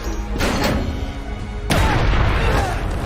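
A bomb explodes in a science-fiction TV drama, a deep booming blast that swells suddenly midway and lingers as a rumbling roar, preceded by quieter dramatic sound.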